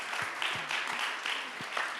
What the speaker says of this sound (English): Can we give a round of applause for our wonderful jurors?